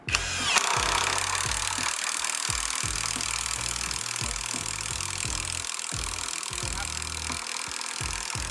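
An 18V cordless brushless impact driver drives a screw into wood with a loud, continuous high whine and a rapid hammering rattle underneath, running steadily for over eight seconds up close.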